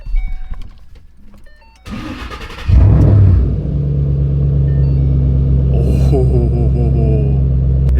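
A Ford Mustang GT500 with a Flowmaster Outlaw exhaust cold-starts: a short cranking burst, then a loud roaring catch that settles into a deep, steady, close idle rumble.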